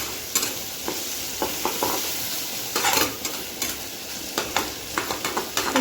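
Vegetables sizzle in a hot pan while a spatula scrapes and taps repeatedly in an uneven rhythm, close and fairly loud, with no voices.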